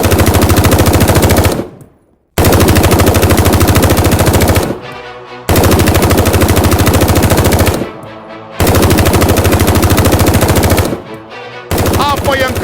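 Rapid automatic gunfire from an animated battle against a monster, including sniper-scope shots, comes in three long, loud, sustained bursts separated by brief gaps, ending with a shorter burst.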